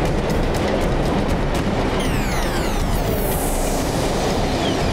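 A cartoon train rumbles past loud and steady, its wheels clattering rhythmically, then bright sliding whistle-like tones sweep across the last half.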